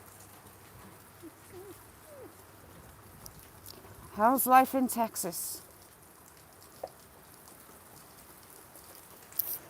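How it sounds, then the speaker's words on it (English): Heavy rain, strong enough to soak through a coat and pockets, keeps up a steady, soft patter outdoors while a voice briefly speaks over it midway. "that rain's that heavy, it's come clean through my coat, through my pockets"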